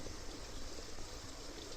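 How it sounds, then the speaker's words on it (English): Floodwater coming off a small mountain in Japan pours through a back yard wall, giving a loud, constant rushing gush of water with no letup. "You can hear the water coming through the wall there"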